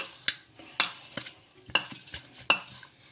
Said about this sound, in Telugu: ఇలా చేతితో బాగా ప్రెస్ చేసుకుంటూ బాగా కలిపేసుకోవాలి